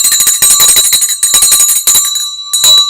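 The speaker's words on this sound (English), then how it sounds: "the second the bell is done" The stock market closing bell rings loud and rapid, a dense metallic clanging with a strong sustained tone that runs nearly three seconds, with brief gaps near the end.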